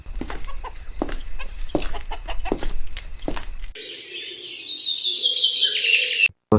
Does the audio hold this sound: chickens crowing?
yes